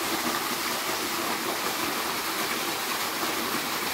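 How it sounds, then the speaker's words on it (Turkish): Waterfall water flowing beneath a bridge at a mountain campsite around 1500 metres, a steady broadband rush filling the whole clip at an even level with no pauses. "Şelale akıp köprünün altından geçip devam ediyor."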